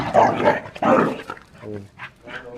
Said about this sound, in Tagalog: Dami nyo ng aso dito